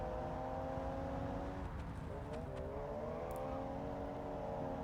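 Two THRS and ISN race cars accelerate uphill neck and neck, engines droning loudly with rising, overlapping revving tones and brief gear-change dips, close and continuous throughout.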